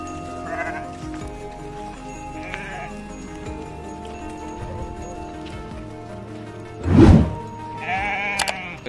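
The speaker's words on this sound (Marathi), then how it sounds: "मेंढ्या." Several sheep in a travelling herd bleat over a steady rural background, with one loud, close bleat standing out near the end and fainter calls scattered earlier.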